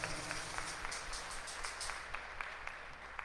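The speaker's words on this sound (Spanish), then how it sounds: "Un aplauso para esa hermanita mía." A church congregation applauds during a Mass for the Solemnity of the Epiphany. The clapping is faint and distant, a steady patter of many hands with no speech over it.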